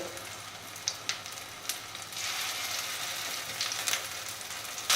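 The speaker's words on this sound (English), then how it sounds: "I'll fry it till this side also gets golden in color" Prawn balls frying in hot oil, turning golden, give a steady close sizzle with scattered crackles and small pops, swelling slightly louder midway with no voices.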